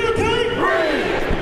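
A large protest crowd of about 60,000 marches through Houston, a dense roar of many voices with shouts and chants rising over it, close and continuous.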